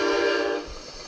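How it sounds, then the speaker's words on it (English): A passing train sounds its horn in one loud, sustained blast that cuts off partway through, leaving a low rumble of the moving train behind it. "the train honked at them too"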